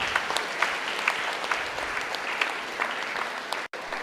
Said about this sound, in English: a big round of applause for all